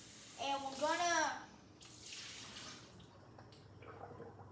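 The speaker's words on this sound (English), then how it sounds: "add our water until we have a smooth batter. So this is 2/3 cup of water." Two-thirds of a cup of water poured into homemade chicken-finger batter: a short splashing pour, then quieter trickling and settling, close by with no talk.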